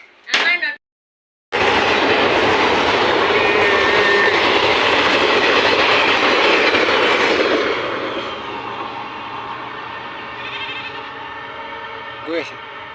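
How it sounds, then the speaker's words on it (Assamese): A train rolls past a tea garden, a loud, steady rumble with rail clatter that swells up after a brief gap, holds for several seconds, then eases and fades as it moves away, with a faint whistle near the end. "এটা ট্ৰেইন গ'লগৈ ন?"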